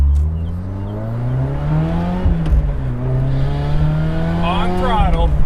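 A Lotus Elise sports car engine pulls hard on throttle, its tone climbing steadily and growing louder toward the end while the car keeps accelerating.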